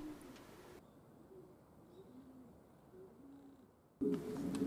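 Quiet, low cooing from a male pigeon with half its tail missing, perched on a shelf in a pigeon loft in the morning, repeated several times in a soft rhythm, with faint background hiss and a louder noise at the end.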